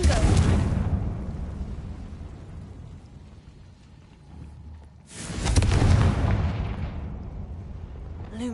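Two heavy blasts from the Confringo spell in Hogwarts Legacy, one at the start and another about five seconds later, each a loud boom that rumbles and fades into quieter background.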